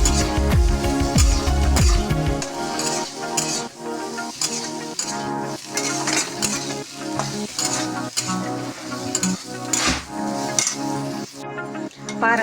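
A spoon stirs chili powder through a dish frying in a pan, with steady close sizzling and repeated scraping and clinking of metal against the pan throughout.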